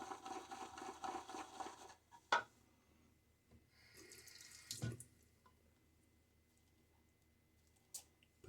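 Tap water runs steadily into a sink while shaving lather is being prepared, with a dense splashing flow for about two seconds, followed by a few brief clunks and quieter handling noises.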